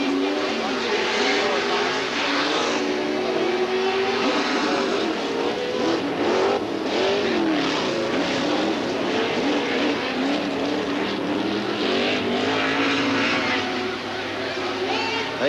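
Off-road Pro race trucks roar around the dirt track at CORR Pomona in 2007, a steady loud engine drone with shifting pitch as they accelerate, under a race commentator's voice.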